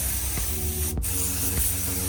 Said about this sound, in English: Atmospherical aerosol spray.